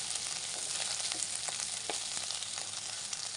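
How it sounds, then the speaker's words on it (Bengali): Small guttum fish fry in a pan with a constant, soft crackling sizzle that carries on evenly with scattered pops and no voices. "ছোট মাছগুলো রান্না করার আগে ভেজে নিচ্ছি"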